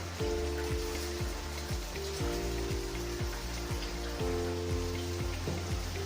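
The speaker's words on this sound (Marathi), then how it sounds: "फक्त एक ते दीड तासात इतका पाऊस झालेला आहे" Heavy rain pours down steadily in a dense, continuous roar, flooding a primary health centre in Korta, with a low hum running underneath and no voices.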